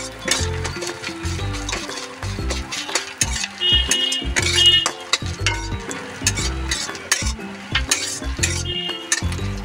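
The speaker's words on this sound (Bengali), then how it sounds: "এবার ডিমটাকে আমি নাড়াচাড়া করে নেবো।" Two eggs frying in hot oil in a wok while being stirred, with repeated scraping, clinking strokes of a utensil over a steady sizzle, close and fairly loud throughout.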